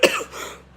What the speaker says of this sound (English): I got cough again.